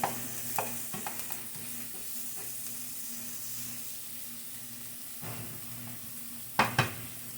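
Mushrooms sizzle quietly in a pan, a soft steady frying hiss with a few light stirring taps and clinks of a utensil against the pan, and one sharper knock near the end.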